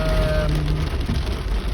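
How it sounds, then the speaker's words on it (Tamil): Heavy rain pours down in Ajman as a dense, steady hiss that fills the whole stretch without pause, with no voices over it. "இப்போ நீங்கள் பாருங்கள் எவ்வளோ மழை பெஞ்சிட்டு இருக்குன்னு சொல்லி."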